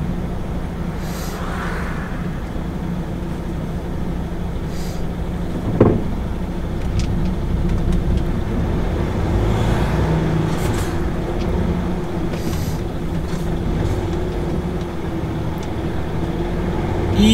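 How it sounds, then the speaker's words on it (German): A bus rumbles along a street, a low engine drone that swells slightly as it approaches and passes nearby, with a brief knock partway through and steady traffic noise throughout. "jetzt kommt gleich der nächste Bus"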